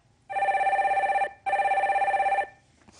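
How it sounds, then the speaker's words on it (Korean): A telephone bell rings loud and close in two long electronic bursts separated by a short gap, sounding as a call is put through on a Korean radio phone-in show. "두 번째 전화 연결해 주세요."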